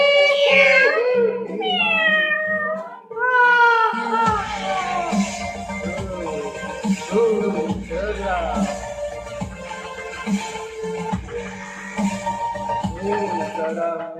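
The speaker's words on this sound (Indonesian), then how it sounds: "Ringtone kucing setan." A demonic cat meow ringtone: opening drawn-out, wavering meows and caterwauls give way to a loud, dense electronic music bed with eerie melodic swells running continuously to the end.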